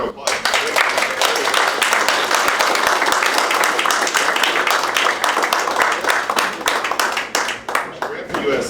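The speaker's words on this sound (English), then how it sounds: "go ahead and give her a round of applause" An audience at a speaking event applauds as a woman guest is brought up on stage, with dense, steady clapping lasting several seconds before it thins out and trails off.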